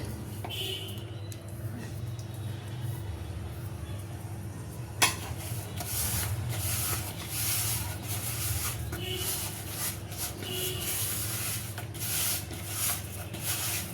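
Biscuit dough made with oil is worked by hand in a bowl, giving soft, close rubbing and squishing with a few light knocks, while a voice talks quietly at times.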